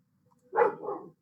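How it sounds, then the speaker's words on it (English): A dog gives a single short, gruff bark with a throaty follow-on, fairly close and alone against a quiet background. "Whoa, my dogs are angry."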